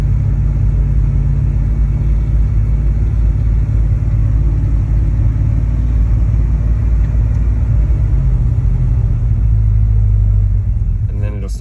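A faulty small engine that runs briefly before dying rumbles steadily and loudly after starting, holding a constant low idle throughout.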